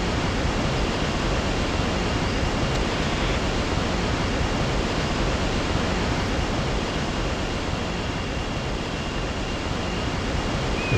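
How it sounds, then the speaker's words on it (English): A video game waterfall roars in a constant, dense wash of noise, steady and unbroken throughout, with no voices. "Oh, a waterfall. Yep, waterfalls in video games."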